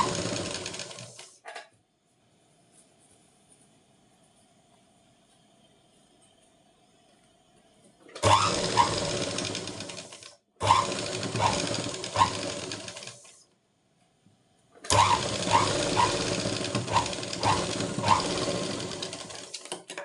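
Sewing machine stitching a blouse sleeve, heard in three close, loud bursts of rapid mechanical whirring after a long quiet stretch, each run lasting a few seconds with short pauses between.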